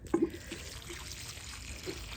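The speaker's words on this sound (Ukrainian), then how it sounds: "я поливаю на землю також для того, щоб коріння" Water is poured onto soil in a greenhouse, watering the ground around plant roots. It makes a soft, steady trickling wash with a couple of faint splashes near the start, heard close and with no talking.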